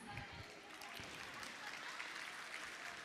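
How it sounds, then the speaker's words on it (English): An audience of parents at a preschool annual day applauds with a steady wash of clapping. The crowd noise is moderately distant and continuous, with voices mixed in. "we want to hear the thunder of claps for each performance"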